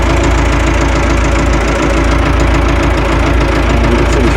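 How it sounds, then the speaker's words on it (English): A tractor engine idles loud and close, a steady knocking diesel chug with heavy low vibration running throughout without a break. "I'm just taking this tractor down to where we are going to make wood chips."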